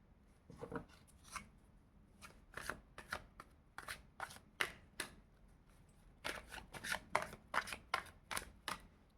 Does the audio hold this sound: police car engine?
no